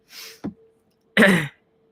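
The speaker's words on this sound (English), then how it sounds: "It's actually making me cough." One short cough caused by a home air-freshener mist spray, then a brief pause and a second, harsher cough close up, with a faint steady hum underneath.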